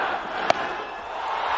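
Cricket crowd at a one-day international between India and England roaring steadily around the ground after a boundary, a broad sustained wash of cheering with one sharp knock partway through.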